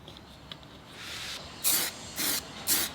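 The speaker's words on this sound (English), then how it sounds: "use the paint that you actually want to actually spray paint your actual ear cups" Spray paint hisses in three short bursts onto HyperX Cloud Revolver headset ear cups, each blast loud and close, with softer faint hiss and quiet room sound between them.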